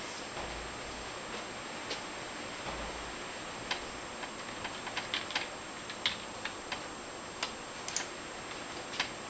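Keys click on a computer keyboard in short, irregular bursts while a password is entered, faint and close, the taps growing more frequent toward the end over a quiet room hiss.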